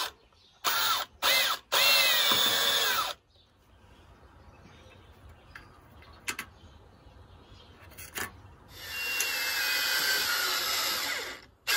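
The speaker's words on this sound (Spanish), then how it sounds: "me voy a ayudar de mi broca escalonada" A power drill with a step drill bit boring into material in short bursts, then a longer whining run after quieter handling noises, close and loud with no talking.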